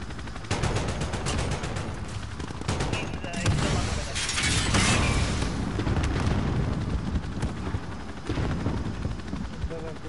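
Dense, continuous video-game gunfire aimed at a bird, loud and rapid with overlapping shots and booming bursts throughout.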